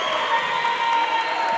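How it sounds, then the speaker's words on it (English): Crowd applause and cheering fill a basketball gym after a player scores a layup, a steady, dense wash of clapping at moderate volume with no clear breaks. "He gets a round of applause from everybody"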